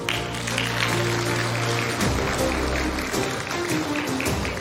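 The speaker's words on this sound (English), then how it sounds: "A big round of applause for yourselves." Audience applause at a live presidential debate, a steady broad wash of clapping over strong low hum and background murmur, with faint voices mixed in.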